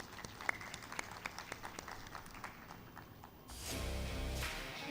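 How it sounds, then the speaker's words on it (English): Applause from a bank forum audience for guests, sparse distinct claps in a large room, quiet and spaced, giving way near the end to a louder broadband wash of sound. "give us an applause to all the guests from the various cities"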